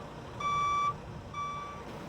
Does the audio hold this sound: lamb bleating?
no